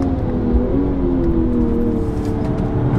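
A BMW M240i xDrive 2022 is driven hard on a race track, its engine a loud, steady drone with shifting tonal whine as the throttle is fed back in through a curve.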